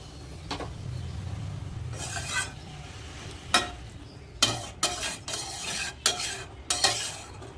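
A spoon stirs vegetables with dried lote fish in a pan after a little water is added, giving scraping, rubbing strokes over a soft sizzle, several louder scrapes clustered toward the end.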